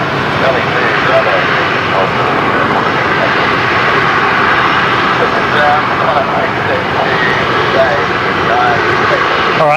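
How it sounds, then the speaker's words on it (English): A Jetstar Airbus A320 jet beginning its takeoff roll at Brisbane Airport, a loud continuous engine roar heard from a distance, steady throughout, with voices and radio chatter running over it. "that's Jetstar 825 there, just beginning its takeoff roll"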